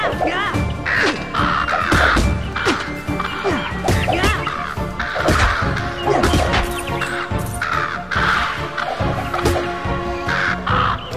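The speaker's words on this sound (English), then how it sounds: "hearing squawking like crazy" Birds squawk and caw loudly and without pause in the video game NeoPets: The Darkest Faerie, mixed with sharp clashing hits and busy game effects.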